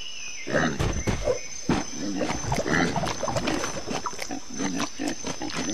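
Pig squealing and grunting in the Lego Jurassic World video game, a run of short bursts over steady game background sound.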